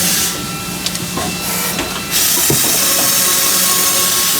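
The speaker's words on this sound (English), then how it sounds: "I'm here at our Amada CMB 75. This is a 75 millimeter saw. We're making a cut in roughly" An Amada CMB 75 cold saw, a 75 millimeter machine, cuts through metal in a quick pass: a steady mechanical whine and hiss with a few sharp clicks, growing louder partway through and holding close and strong to the end.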